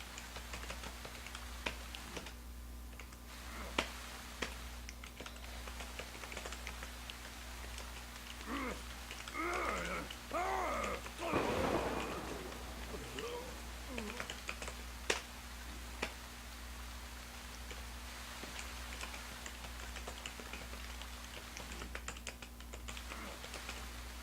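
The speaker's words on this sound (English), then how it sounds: "I just typed that fast" Quick bursts of typing on a computer keyboard, soft rapid clicks clustered in the middle and scattered taps before and after, close and quiet with no talk.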